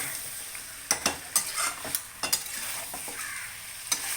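Chicken stirred in a pan over a gas flame, several sharp clacks of the spoon against the metal at irregular intervals over a low continuous sizzle, close by.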